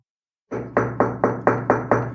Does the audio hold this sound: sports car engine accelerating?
no